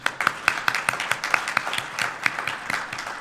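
Scattered audience applause at a Board of Health health fair and symposium in Brockton, sparse individual claps spread across the room at moderate distance, a steady patter without cheering.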